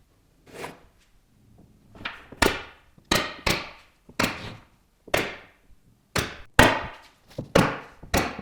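Staples driven into a wood strip to hold it while glue dries, about a dozen sharp, loud, close snaps in an uneven rhythm, with a little faint handling between shots.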